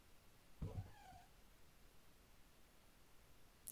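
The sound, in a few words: cat meeping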